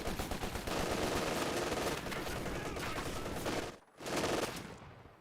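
A machine gun lays down sustained suppressing fire in the Company of Heroes 2 video game, with dense rapid bursts that stop briefly and then resume, and battle noise layered underneath.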